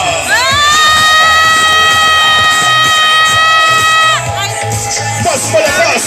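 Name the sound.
wedding guests cheering and shouting for newlyweds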